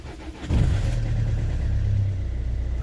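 A car engine catches and settles into a steady running drone with a low hum, heard from close inside the vehicle, no voices.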